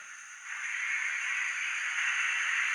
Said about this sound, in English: Sounds like water's being injected